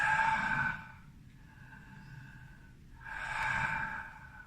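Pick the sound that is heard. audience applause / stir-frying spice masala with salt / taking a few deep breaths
taking a few deep breaths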